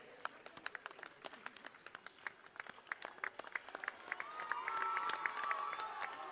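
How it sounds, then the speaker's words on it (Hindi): At a Congress party rally in Delhi, scattered sharp claps from the crowd build into fuller applause with rising cheering and crowd noise, all heard from a distance and fairly faint. "जोरदार तालियां बजाइए आप सबकी तरफ से।"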